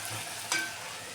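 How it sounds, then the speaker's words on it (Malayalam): Koottu mezhukkupuratti vegetables are stirred in a pan, a soft sizzle underneath with one brief scraping clink of the spoon midway, faint and close. "നമുക്കൊന്ന് തുറന്ന് ഒരിക്കൽ കൂടെ ഒന്ന് തുറന്ന് നോക്കി ഇളക്കി കൊടുക്കണം"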